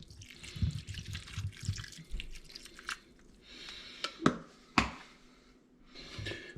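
Water poured into a bowl of okroshka makes uneven splashes and trickles. Several sharp drips and plops follow, with quiet pauses between, close by and fairly soft.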